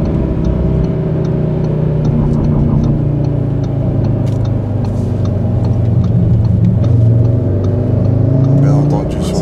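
An Audi RS3 engine pulls hard under acceleration with a steady, deep mechanical drone and shifting harmonic tones. The car sounds close and loud throughout, with voices faintly over it.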